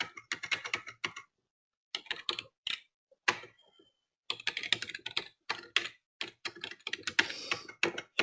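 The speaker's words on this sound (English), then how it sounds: "I'm typing it so you can't see anything" Rapid clicking keystrokes on a computer keyboard come in steady bursts with brief pauses between them, close and fairly clear, with no voices over them.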